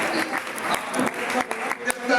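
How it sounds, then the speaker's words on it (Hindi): Students applaud a bank manager at a school talk, a brief burst of brisk clapping with scattered claps standing out and some talk underneath. "एक बार जोरदार तालियां हमारे शानदार बैंक मैनेजर बहन के लिए, जोरदार तालियां।"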